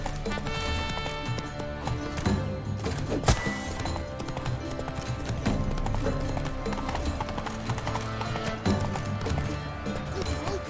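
Roach the horse from The Witcher 3: Wild Hunt, Blood and Wine, gallops in steady clip-clop hoofbeats, fairly close, beneath a dense game music score with a brief crash near the middle.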